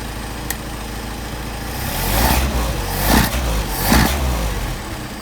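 A Mercedes 190SL engine on Solex 44PHH carburetors idles steadily at about 650 to 700 RPM, a low continuous rumble with a few gentle swells, close by and without talk.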